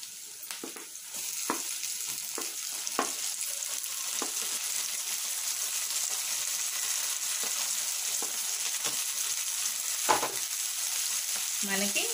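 Bitter gourd slices fry in a pan as tomatoes go in, giving a faint, steady oily sizzle broken by scattered light taps and stirring clicks, with no one talking.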